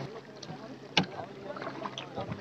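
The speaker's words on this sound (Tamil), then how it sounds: "இப்போ நம்ம போகிறது வந்து துடுப்பு போட்டில் போகிறோம்." A paddle rowboat glides through the mangrove forest waterways at Pichavaram, with soft water sloshing and a sharp knock near the start, under quiet conversation throughout.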